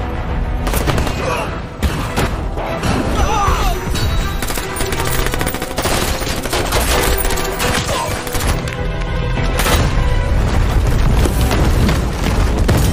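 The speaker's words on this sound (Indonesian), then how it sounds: "Eddie sibuk baku tembak dengan pengawal Chan sambil mengejar Chan yang berusaha kabur." A film shootout during a police raid on a mafia boss rages with dense bursts of automatic gunfire, booms and crashes, loud and continuous for the whole stretch, with shouted voices mixed in under the noise.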